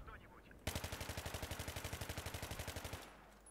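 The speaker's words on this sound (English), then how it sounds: "I love the MG36. This is a great light machine gun." MG36 light machine gun in Battlefield 3 firing one sustained burst of about two dozen evenly spaced shots, sharp and loud, starting abruptly and cutting off cleanly after a couple of seconds.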